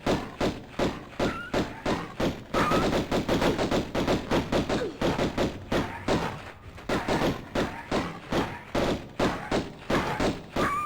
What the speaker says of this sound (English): Sometimes Lara decides to keep firing.